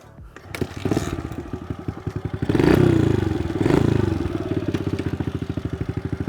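A Kawasaki KLX 110 pit bike with aftermarket pipe, airbox and carb kit rides near the house. Its small single-cylinder engine pulses steadily, revs up twice as it pulls away, then settles to a rapid chugging idle, fairly close.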